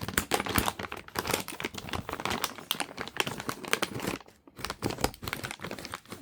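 Plastic packaging of a vacuum-compressed heated electric blanket being cut open, giving a dense run of close crinkling and rustling with soft hissing as trapped air escapes, no voices.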